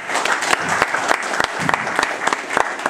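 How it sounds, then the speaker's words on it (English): An audience at a Nigerian students' association election event applauds loudly and continuously, with dense clapping and a few sharper claps standing out near the front. "Please, a round of applause for them again."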